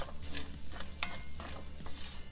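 Onions and garlic sauté in melted vegan butter in a pan, a steady close sizzle with stirring scrapes throughout.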